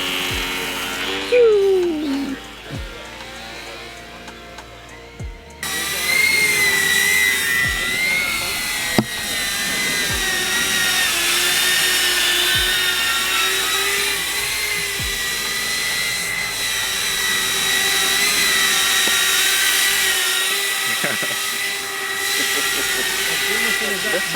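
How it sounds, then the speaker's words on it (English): A small FPV cinewhoop drone with 3-inch props gives a high-pitched motor whine that hums steadily after a brief quiet start, with voices talking underneath. "So this is called a Shenzhen Squirt designed CineWhoop. It's 3-inch props"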